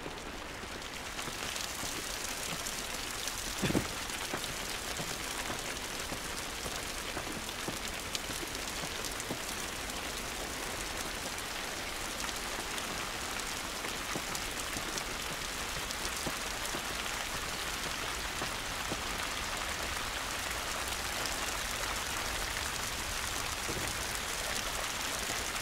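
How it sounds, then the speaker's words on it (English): Steady, dense rain from the video game The Last of Us patters on surfaces without a break, a constant hiss of drops with no voices. "This rain ain't gonna do us any good."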